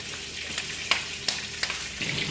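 Chicken browning in a pan for an Arabic maghlubeh dish, sizzling and crackling steadily with small pops throughout, close and continuous.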